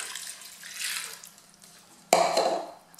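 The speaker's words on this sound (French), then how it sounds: "Et là on va venir ajouter le liquide tout simplement" Water is poured into a Cookeo multicooker pot for one-pot ham and cheese pasta: a soft splashing that swells and fades, then a sudden louder gush of pouring close by.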